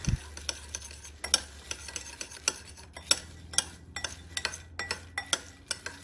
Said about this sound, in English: So just stir it up.